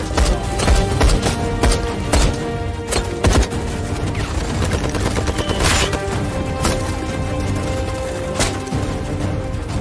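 Sustained gunfire from a war film fills the scene, with rapid volleys of rifle and machine-gun shots crackling in irregular bursts, loud and close over a rumbling battle background.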